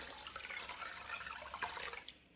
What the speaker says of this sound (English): I'm going to be adding 2 litres of water to this as well.